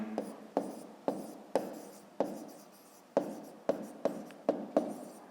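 A pen writes on paper in a series of about ten short, crisp strokes and taps at an uneven rhythm, close and fairly quiet, with no talking.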